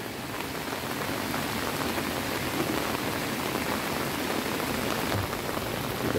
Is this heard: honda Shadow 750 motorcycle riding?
no